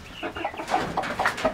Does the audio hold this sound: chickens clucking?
yes